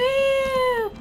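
A single cat meow from the video game Minecraft, one clear, drawn-out tone about a second long that bends slightly downward at the end, loud and alone.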